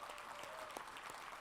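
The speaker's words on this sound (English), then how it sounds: "Let's give him a big round of applause for his leadership." Audience applause at a forum, a steady, fairly faint wash of clapping from a crowd with no talk over it.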